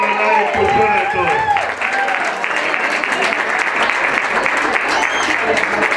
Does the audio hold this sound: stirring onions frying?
no